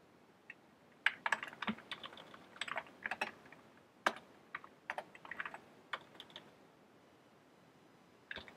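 Irregular bursts of close, crisp keystrokes as code is typed on a computer keyboard, clustered in quick runs with short pauses, fairly quiet and with no talking.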